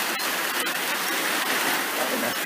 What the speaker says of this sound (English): this rain's going to continue